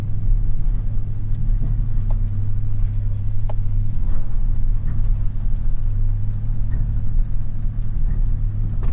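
Toyota Tundra pickup on Kumho Road Venture AT52 tires climbing a steep off-road slope in two-wheel drive, a steady loud engine rumble close up with no talk.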